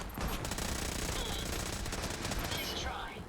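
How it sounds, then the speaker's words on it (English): Minigun fire in the Fallout 4 video game, a dense, continuous roar of rapid shots that stays loud and steady throughout, with no voices. "the minigun decides to start opening fire on my building"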